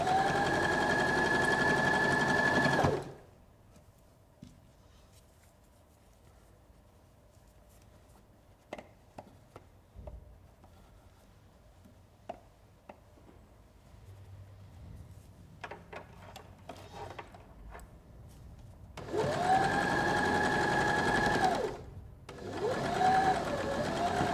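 A sewing machine runs in a loud burst while stitching a soft jersey band onto a chemo cap, stretching it as it goes. A quiet stretch with small handling noises follows before a second longer burst of close, steady stitching.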